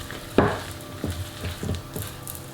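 Chocolate hazelnut fondant batter folded in a bowl, one sharp knock followed by a few soft scraping, squelching strokes, close and fairly quiet, with no voices.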